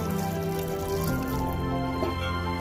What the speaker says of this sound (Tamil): தேவையான அளவுக்கு தண்ணி ஊத்திக்கலாம்.